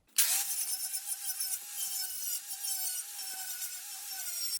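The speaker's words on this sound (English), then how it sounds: "So now I can grab the angle grinder and clean it all up." An angle grinder cleans up welds on the body of a Ford F1 truck during rust repair, spinning up sharply and then holding a steady, loud, close whine with a slight wavering.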